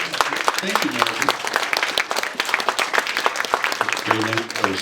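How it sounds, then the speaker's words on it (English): Wedding reception guests applauding, a dense, sustained round of clapping from a room full of people, with a voice speaking over the applause in places. "Right, you're allowed to applaud."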